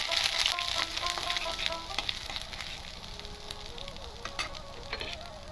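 Whole cumin seeds, dried red chilli and ginger paste with chopped ginger crackle and sizzle in hot oil, a close continuous frying hiss with occasional stirring clinks and no voices.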